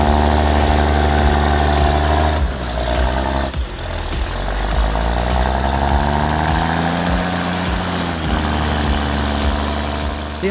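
Heavy farm machinery, tractors and Krone forage harvesters working a maize silage harvest, drones loud and close with a steady low engine hum and shifting pitch, continuous throughout, with no voices.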